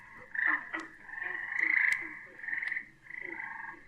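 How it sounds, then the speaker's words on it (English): Tree frogs chorus at a frog pond, their shrill trilling calls rising in overlapping bursts, several voices close together and steady, with no people talking. "now those tree frogs are more of them singing"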